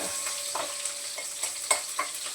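Spices tempering in hot oil in a pan on a lit gas stove, a steady soft crackling sizzle with a few brief spatters and stirring clicks, fairly quiet and close, no talking.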